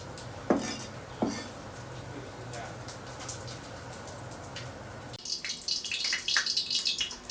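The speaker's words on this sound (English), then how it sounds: "now we'll soak them in water to remove the starch" Water running and splashing over shredded potatoes set to soak in a kitchen sink, with dishes and cutlery clinking close by; two sharp knocks early on, then brighter rushing water near the end.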